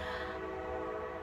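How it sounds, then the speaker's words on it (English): A passing train sounds its horn in a loud, sustained, harmonic blast that holds steady throughout, heard from a home porch. "sorry for the train."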